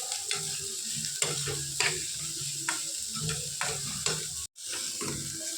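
Cumin seeds sizzle and roast in a hot tadka pan for cabbage raita, a steady close crackle with scattered sharp pops and clicks of stirring, continuous without talk.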